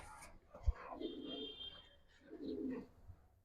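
Pigeons of mixed fancy breeds, including a military hen, coo softly at close range, with a couple of low throaty bursts and a faint tap standing out against quiet room noise.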